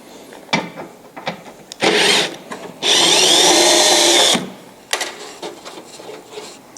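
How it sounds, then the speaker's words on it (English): Cordless drill with a 5/16 hex bit backing out blower screws on a Santa Fe Rx dehumidifier: two loud close bursts of whirring, the second longer, between clicks and handling knocks. "Just to speed things up, I'm going to go ahead and use the drill."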